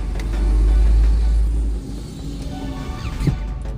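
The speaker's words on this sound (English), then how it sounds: "Let this very loud truck go past." A very loud truck drives past at close range on a road, a heavy low rumble swelling and then fading as it goes by, followed by quieter road noise.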